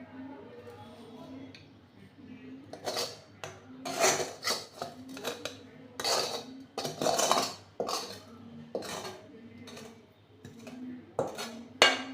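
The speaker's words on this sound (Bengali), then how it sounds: "যেটা ভেজে রাখলাম সেটা এর মধ্যে ঢেলে দিচ্ছি" Fried pieces for Bengali dhokar dalna tumble into a cooking pot, giving a run of clattering, scraping bursts of food and utensil against metal, close and fairly loud, with talk in between.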